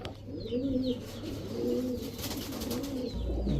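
White Pakistani teddy racer pigeons, large birds kept in matched pairs, coo in repeated rolling calls at close range. The cooing is steady and moderately loud, with a low background hum and no talking.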